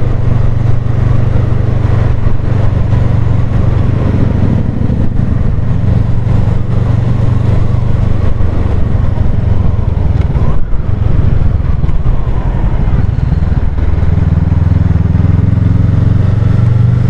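A 2022 Honda CMX Rebel 500 Euro5 motorcycle on a test ride: a loud, steady engine drone with wind rush close by. The tone dips and shifts partway through, then settles into a lower hum with no talking.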